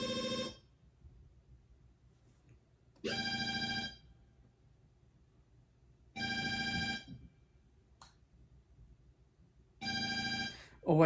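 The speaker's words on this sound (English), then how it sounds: "Oh wait, hang on a sec, that's my phone." A mobile phone rings in four evenly spaced bursts of a bright electronic ring tone, each lasting under a second, with quiet pauses between.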